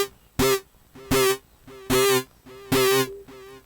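Four sustained notes from a thrift-store keytar, a basic touch-sensitive keyboard, played through external speakers. Each note is bright and buzzy with a strong attack and lasts about half a second, separated by short gaps.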